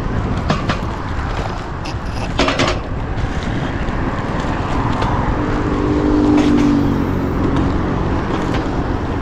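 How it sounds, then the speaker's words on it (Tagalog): Road traffic passes in a steady wash of engine and tyre noise, with a vehicle swelling louder nearby for a moment, under occasional voices. "Uy, traffic sa kabila."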